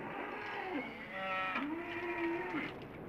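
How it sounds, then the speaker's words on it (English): Restless cattle moo at night, one long drawn-out low call rising and sliding, followed by a second sustained moo, fairly close and clear over a faint background hum. "The cattle are getting restless."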